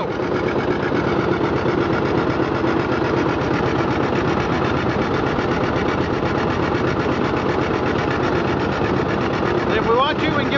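A John Deere 820 tractor engine idles at around 950 RPM, a steady close rhythmic chugging that holds even throughout, with a brief faint sound near the end.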